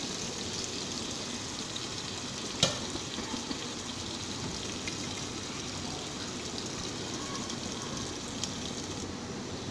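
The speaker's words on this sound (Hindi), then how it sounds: "ये हल्का गर्म हो गया तो इसमें ये प्याज डाल दी। इसका हम 3 से 4 मिनट के लिए फ्राई करेंगे।" Onions sizzle in lightly heated oil in a pan, a soft, steady frying hiss throughout with one brief sharp click partway through and no talking.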